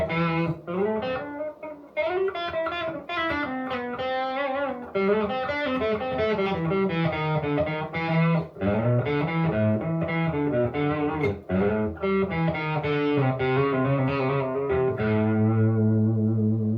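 An electric guitar runs through a Blackstar ID260TVP amp on its dirty channel with the guitar volume turned down, giving a clean valve-style tone as a busy melodic line of notes and chords plays continuously, up close.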